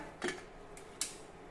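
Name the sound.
pressure cooker lid being closed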